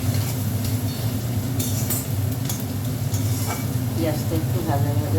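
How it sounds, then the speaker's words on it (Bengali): Onions frying in a pan for a kochur loti dish with prawns, a dense continuous sizzle under a low hum, with a few scraping stirs toward the end, close and unbroken. "পেঁয়াজটা একটু ভাজা ভাজা হোক।"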